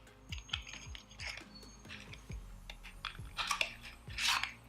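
Hourglass Scattered Light makeup packaging being opened, with quiet close crinkles, taps and small plastic clicks in an irregular sequence.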